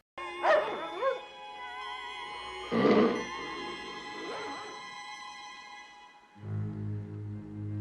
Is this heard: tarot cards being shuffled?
no